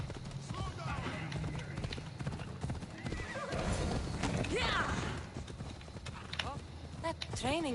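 Hoofbeats from horse riding in Assassin's Creed Odyssey, a steady clip-clop throughout with neighs and whinnies near the end, heard under frequent talking.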